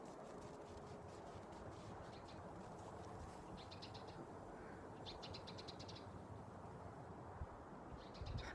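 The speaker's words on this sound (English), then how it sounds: "There's chickadees, there's nuthatches, there's some squirrels." Faint chickadee and nuthatch calls, short repeated chirping bursts scattered across a quiet outdoor background, some distant and soft.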